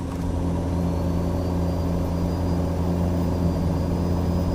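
Kenworth K100 truck driving in American Truck Simulator, a steady, loud low engine drone with rumbling harmonics that holds even throughout, no talk.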